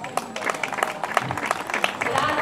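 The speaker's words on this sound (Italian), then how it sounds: "un grande applauso ancora e complimenti" Audience applause at the Santa Lucia del Mela historical parade, steady dense clapping from a close crowd throughout, with a voice speaking over it.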